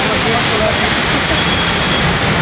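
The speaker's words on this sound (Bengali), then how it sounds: "তো দেখতে পাচ্ছ কীভাবে জল নামছে" Water pours down heavily at high speed, making a loud, steady, broadband rush that fills the whole clip, with a voice talking under the roar.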